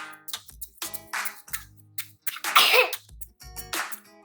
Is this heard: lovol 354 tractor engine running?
no